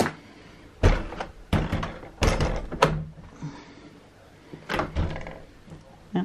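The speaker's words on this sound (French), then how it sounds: "on va fermer les fenêtres" Windows are shut in a home during tidying, heard as a series of sharp thuds and slams, some in quick pairs, separated by quiet pauses.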